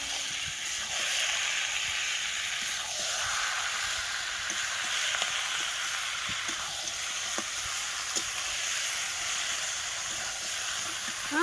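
Chicken meat sizzles and fries in spice paste over a coal fire, a steady bright hiss with occasional crackles and soft stirring clicks, close and continuous with no talk.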